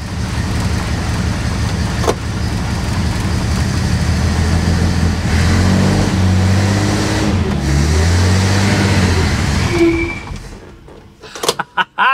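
A 1957 Plymouth two-door barn find, parked over twenty years, runs with a loud rough engine rumble close by as the car creeps, then the engine drops away and a few sharp knocks and clunks follow.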